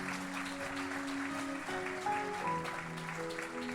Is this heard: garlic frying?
no